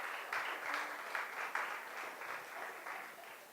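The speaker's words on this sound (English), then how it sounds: "I just want to give another round of applause for Kevin's talk." Audience applause after a talk, sustained clapping from a crowd heard at moderate distance, fairly soft and even with slight swells.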